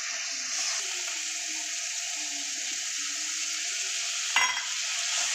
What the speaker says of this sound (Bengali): মশলাটা কষানো হয়ে গেছে